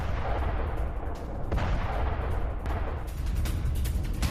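Artillery fire in South Lebanon booms repeatedly at a distance, several dull heavy thuds rolling over a constant rumbling background, with no voices.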